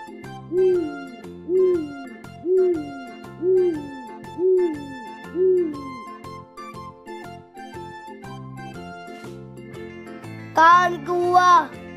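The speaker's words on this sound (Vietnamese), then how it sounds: "Con cú mèo." An owl hoots in a series of about six evenly spaced, swooping calls, clear and close, followed by a brighter tinkling chime at the end.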